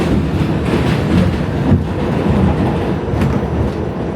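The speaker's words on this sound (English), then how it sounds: "New York City still has one of the loudest subway systems in the world." A New York City subway train rumbles loudly nearby, its metal wheels clattering and grinding in a dense, continuous roar, with no one speaking.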